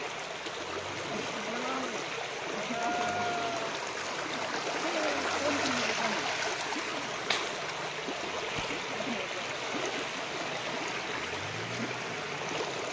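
Steady, loud rush of a flooded river pouring over a road, a continuous broadband roar close by with occasional faint voices underneath.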